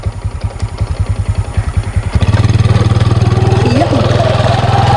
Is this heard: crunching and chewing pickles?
no